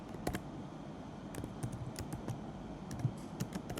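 HTML code is typed on a computer keyboard in scattered, close keystroke clicks with short pauses between bursts, soft in level, and no talking.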